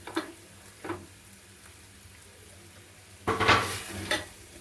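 Moong dal, ridge gourd pieces and coriander landing and frying in a pan, with a faint low sizzle broken by a few short clinks and a louder burst of scraping stirs near the end.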